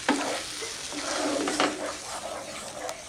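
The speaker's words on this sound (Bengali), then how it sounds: "পটল বাটাটা দিয়ে আমি ভালো করে মিক্স করে নেব মশলাটার সঙ্গে।" A spoon stirs pointed gourd paste into spices frying in a pan, a steady sizzle with scraping strokes and occasional clinks, close and fairly loud.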